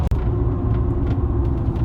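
A truck with a 7.5-inch Rough Country lift kit cruises on the highway at 75 mph, giving a steady, loud low-frequency road and tire rumble with engine drone that continues unbroken with no talking.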